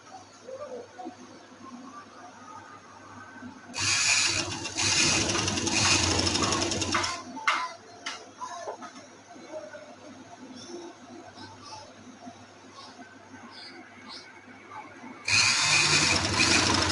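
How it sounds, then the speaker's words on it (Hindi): A sewing machine stitches elastic onto a salwar, running in two loud bursts of steady mechanical whirring, one of about three and a half seconds and another near the end, with quieter handling between. "इस सिलाई पे हम सिलाई लगाएंगे।"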